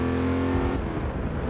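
A 1970s muscle car engine drones steadily in the racing game Over-Drive: Apex on the short Brands Hatch circuit, its loud, close tone shifting in pitch as the car works through the lap, with no voices.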